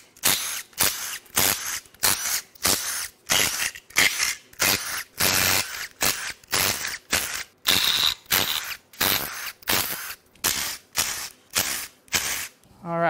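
A hand ratchet loosens a long series of 12 mm bolts during the teardown of a blown Toyota 4Runner 1GR-FE 4.0 L V6 engine. It makes quick, evenly spaced bursts of clicking, about twenty strokes, close and fairly loud, with no talking.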